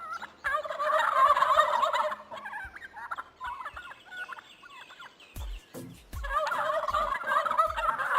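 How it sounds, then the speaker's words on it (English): Wild turkeys gobble at a free-roaming farm stay in New Zealand's North Island, loud rattling bursts at the start and again near the end, with quieter clucking calls and a few low thumps in between. "wild turkeys roam freely"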